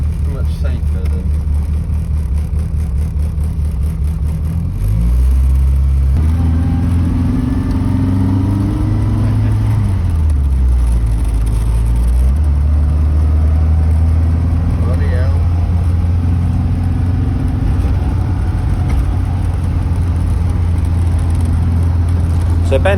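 A classic Frogeye Sprite car is driven on the road with a loud, steady engine drone and a low rumble that shifts in pitch as it changes speed, with talking over the engine noise.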